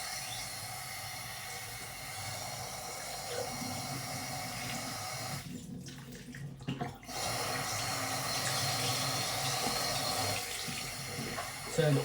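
Tap water runs steadily while heating up during an aquarium water change, a continuous close hiss that briefly drops out midway before resuming.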